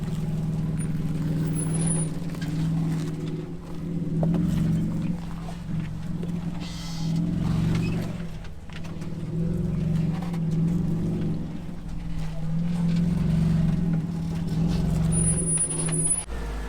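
A Jeep crawls over a rock garden on an off-road trail, its engine a steady low rumble with occasional creaks and knocks of the chassis, close and continuous without talk.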